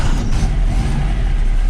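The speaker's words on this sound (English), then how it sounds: "starts all right" A Baja Bug engine idling just after a new gearbox has been fitted, a loud, close, steady low mechanical rumble that runs on briefly without a break and with no voices.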